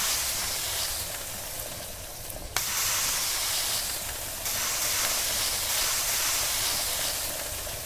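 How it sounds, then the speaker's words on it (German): Kebab skewers sizzle on a hot grill, a steady broad hiss that jumps louder as more skewers go down and then continues evenly. "kann ganz entspannt nur die Spieße braten. Spieße drauf."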